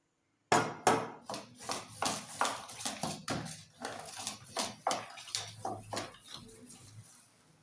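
Jackfruit snack batter is kneaded and mixed by hand in a bowl, giving a steady series of about a dozen wet, slapping squelches, close and fairly quiet, with no talking over them.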